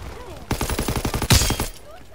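Rapid automatic gunfire in Call of Duty: WWII, a close, loud burst of evenly spaced shots lasting over a second, peaking toward the end, with quiet before and after.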